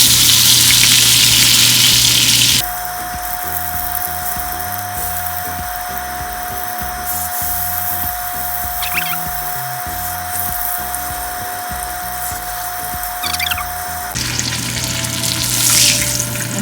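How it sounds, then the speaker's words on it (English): Wagyu beef sides sear in a hot pan, a loud close sizzle that gives way to a long stretch of steady whining, buzzing mechanical noise before the sizzle returns at full strength; no talking. "Now I'm going to sear the sides."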